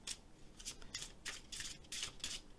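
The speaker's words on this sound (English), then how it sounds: "You shuffle one more time like this." A deck of oracle casting cards is shuffled by hand in quick, soft rhythmic bursts of riffling and rubbing, close and fairly quiet.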